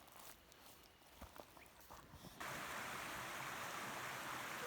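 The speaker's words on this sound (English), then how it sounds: "We do have a little creek, river, whatever you want to call it" A few soft footfalls, then a steady close rush of water from a small creek flowing continuously.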